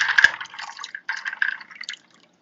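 Water drips and trickles off broccoli just lifted from an ice-water bath, a short burst of close, bright splashing patters that fades into silence after about two seconds.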